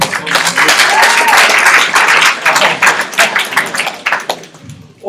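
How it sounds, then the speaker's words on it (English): An audience at a live event breaks into sustained applause, dense clapping filling the room with scattered taps and a few voices mixed in before it tapers off toward the end. "Nice. Give a round of applause."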